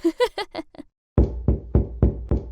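Five heavy, hollow thuds strike a door at a steady, even pace, close and loud. Brief speech comes just before them.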